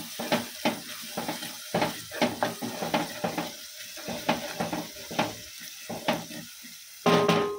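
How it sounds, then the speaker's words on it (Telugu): Garlic paste frying in a hot pan with onions during home cooking, giving a steady sizzle broken by rhythmic scraping stirs, close and clear, with a brief louder burst near the end. "ఎల్లిపాయ పేస్ట్ వేస్తున్నా."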